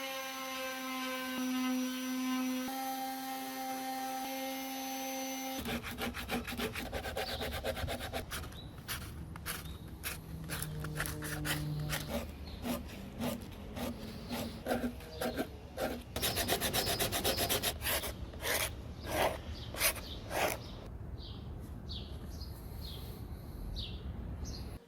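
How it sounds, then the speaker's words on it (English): A wooden DIY Telecaster-style guitar body is sanded by hand with coarse 60 grit sandpaper, giving close, repeated rasping strokes in an uneven rhythm after a brief tonal opening. "This is 60 grit sandpaper, which is a real improvement for sanding the overall shape."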